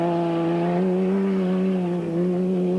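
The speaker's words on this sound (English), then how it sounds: "This is the incredible Schlesser original buggy, powered by Renault V6" The Schlesser original buggy, a rally-raid car powered by a Renault V6, drives past in the desert with a steady, loud engine drone that holds a sustained tone.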